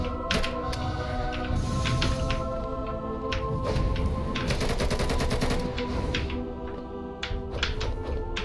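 Rapid gunfire from the Hollow Point gun mod in the game Hollow Knight, a dense run of sharp shots under a constant layer of game music and effects, with bursts clustering in the middle.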